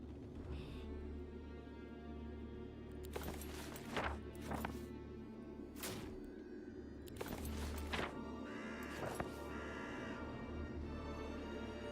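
Horses neigh and whinny at a stable in the Heroes of Might and Magic video game, with hooves clip-clopping over a steady game music bed; several short bursts break out loudly across the stretch.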